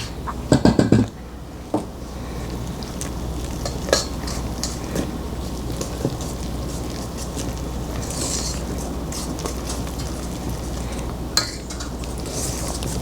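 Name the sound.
stirring gingerbread batter by hand in a pan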